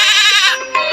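A single loud, wavering goat bleat close by in a video game, trailing off into a shorter second cry.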